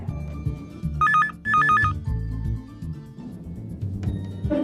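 A telephone rings in two short electronic trilling bursts, fairly close and clear, over a background of music and room sound, with no speech.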